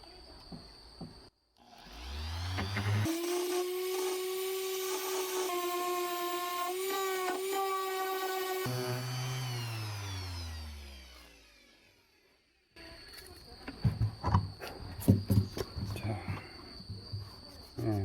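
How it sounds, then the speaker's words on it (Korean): A plastic fitting surface on a manual sprayer being converted to automatic is ground smooth with a power tool. The motor whines up, holds a steady loud tone for several seconds while grinding, winds down, then rough handling noises follow. "이렇게 갈아내야 되겠습니다"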